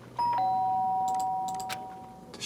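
Doorbell in the Danganronpa video game sounds a single bright two-note chime near and clear, fading away gradually against a quiet backdrop.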